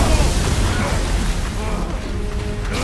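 Spider-Man: Miles Morales combat against Roxxon armor, with a loud low rumbling blast and crashing debris from an engine block explosion that slowly settles into mechanical grinding.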